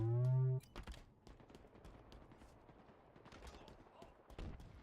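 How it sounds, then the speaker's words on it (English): Gunfire fills a Halo video game deathmatch, with rapid cracking shots in quick bursts. A loud tone opens the clip, and a voice talks over parts of it. "In a hail of gunfire."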